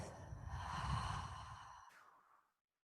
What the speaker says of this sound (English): Big exhale through your mouth.